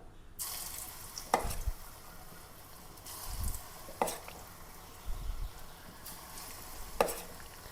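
Marinated cauliflower dropped into well-heated oil in a small pan, sizzling steadily with periodic sharp clinks and stirring scrapes at a moderate, close distance, no talking.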